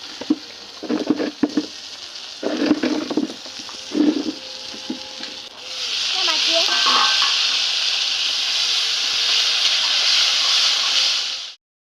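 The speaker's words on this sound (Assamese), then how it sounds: "এইফালে বাইদেউ মাছ ভাজিব এতিয়া" Fish pieces frying in a pan: a broad, even sizzle swells in about halfway through and holds steadily to the end, after a stretch of scattered clattering and light kitchen sounds.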